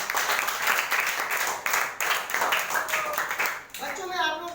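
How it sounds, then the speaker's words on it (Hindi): Schoolchildren at a composite school in Varanasi give a teacher a loud round of applause, brisk and steady clapping throughout with a voice speaking over it near the end. "मैं चाहता हूँ कि सर के लिए एक जोरदार ताली हो जाए"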